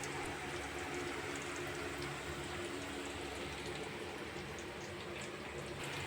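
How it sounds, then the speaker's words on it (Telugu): Bitter gourd pieces fry in hot oil in a home kitchen, a dense, steady sizzle and bubbling hiss that stays even and close throughout with no voices over it. "చూడండి కాయలు ఫ్రై అయిపోతున్నాయి"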